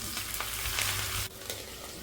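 Mustard seeds, cumin and dried red chillies sizzle in hot tempering oil for a dal of sorrel and fenugreek greens, giving a close, steady hiss with fine crackling and a brief dip partway through, with no talking.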